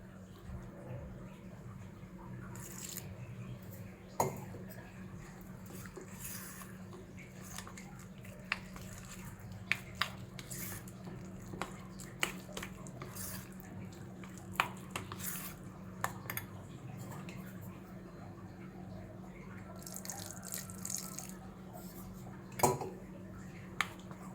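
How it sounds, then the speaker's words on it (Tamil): Banana batter is mixed with a little water and sugar in a bowl with soft wet squelching and occasional clinks of a spoon against the side, steady and close, with no talking. "இதை இப்போ கொஞ்சம் தண்ணி விட்டு மிக்ஸ் பண்ணி எடுக்கலாம்."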